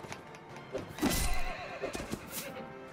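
A horse in the medieval combat game Mount & Blade: Warband whinnies amid clip-clopping hooves, with a few rising neighs and steady hoofbeats fairly close in a busy battle soundscape.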